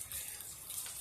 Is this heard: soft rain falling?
yes